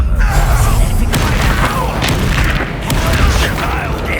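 A Bombarda spell explosion in Hogwarts Legacy gives a heavy, booming blast with a rumbling, crashing tail that fills the whole moment, loud and close, with a voice heard among it.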